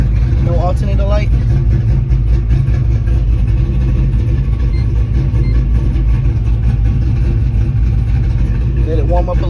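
A Pontiac GTO engine idles steadily after being started, a continuous low rumble with a person speaking briefly over it near the beginning and the end.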